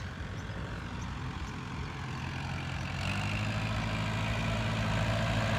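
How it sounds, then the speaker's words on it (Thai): A Kubota 47 farm tractor's diesel engine runs at a steady low idle on a land-filling job, then grows louder and heavier partway through, its deep rumble continuous throughout. "พาดูรถไถก่อน คูโบต้า47 ครับ"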